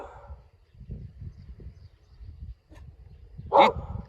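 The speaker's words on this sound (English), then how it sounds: "Go bark at them." A dog barks once, sharp and loud, at cows outdoors, following a stretch of low rumbling background noise.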